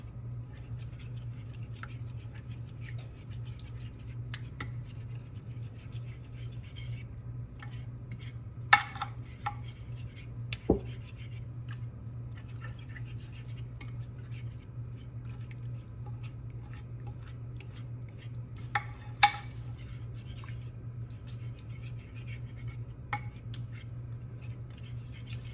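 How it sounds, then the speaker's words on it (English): A fork stirring peach cobbler batter to break up flour clumps: faint, sparse scraping and occasional sharp clicks against the bowl over a steady low hum. "Stir this all together. And use a fork to get some of the clumps of flour out."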